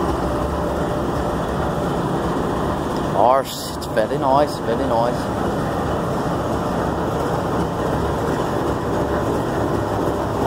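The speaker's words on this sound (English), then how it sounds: "Right here's the train." A Norfolk Southern freight train led by five locomotives, three ED units and two high hoods, rumbles steadily past nearby as someone speaks briefly over the continuous noise.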